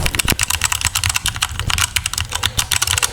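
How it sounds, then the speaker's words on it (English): Rapid, steady typing on a Stoga keyboard with brown switches, each keystroke a crisp, close clack in a continuous busy rhythm, with no talking. "This is way more clicky because of the keycaps, but the brown switches, they need more force to press them"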